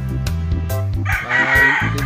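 Roosters crow at a gamefowl farm, one loud nearby crow rising over other birds' overlapping calls in a short burst.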